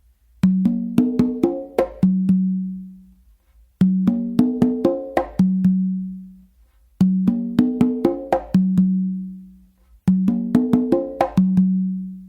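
Four congas play a melodic tumbao with open tones, slaps and close slaps, the same bar-long pattern repeating four times with a short pause after each, close and crisp with no talking.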